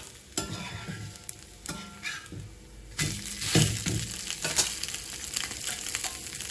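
Bottle gourd adai fries in plenty of oil on a pan, a close, crackling sizzle with sharp spatters that swells louder and busier partway through, with scraping and clattering in between.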